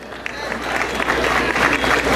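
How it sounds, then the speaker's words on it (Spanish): Crowd applause at a rodeo event in Chontalcuatlan, with scattered claps building into denser clapping and staying fairly distant and moderate in level, plus faint voices mixed in. "vamos a brindarles un aplauso"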